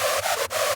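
Gritty Sylenth1 screech run through overdrive distortion, a dense, bright, buzzing tone in two quick pulses split by a brief dip, loud and alone.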